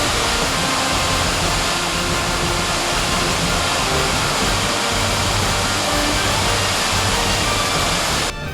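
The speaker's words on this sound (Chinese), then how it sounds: "再加上瀑布的声音呢" Gullfoss waterfall in Iceland roars as a dense, steady wash of broadband noise, loud and unbroken from start to finish with no voices over it.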